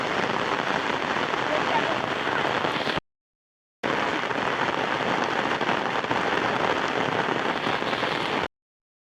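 Heavy village rain in India drumming down in a loud, dense roar, cut by a brief gap before the downpour resumes at full strength.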